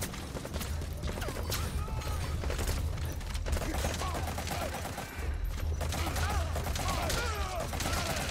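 Shotgun blasts and other gunfire erupt in a tense Metal Gear Solid 5 firefight, a loud, chaotic run of sharp reports over a low rumbling backdrop, with someone talking excitedly beneath the shooting.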